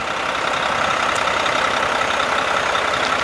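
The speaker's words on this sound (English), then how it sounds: "MACK MP8, 505 horse, turbo diesel power." A 2016 Mack Pinnacle CHU613 truck with a 505-horsepower MP8 turbo diesel runs at a steady idle, a loud, close, unbroken engine drone with no other sounds.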